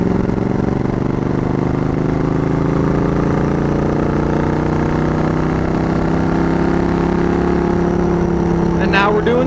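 A 1995 Suzuki Intruder VS800 motorcycle cruises in fifth gear, its engine a loud, steady drone with rising tones as power rolls on, mixed with wind rush throughout.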